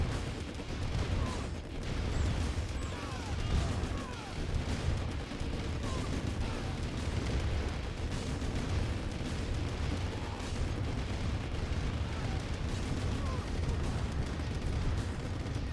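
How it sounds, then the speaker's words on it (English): A nuclear blast in the video game Red Alert Remastered gives a steady, dense low rumble that holds for many seconds amid distant battle noise. "Nuke's gone off over here."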